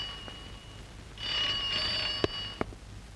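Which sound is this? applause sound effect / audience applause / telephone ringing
telephone ringing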